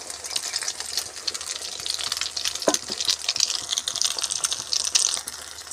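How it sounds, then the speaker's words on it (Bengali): An egg and potato mixture sizzles steadily in hot oil in a pan, with crackling spits throughout and a single sharp knock partway through. No one speaks. "তেলটা গরম হয়ে গেছে, আমি ওর মধ্যে মেশানো আলু আর ডিম দিয়ে দিলাম।"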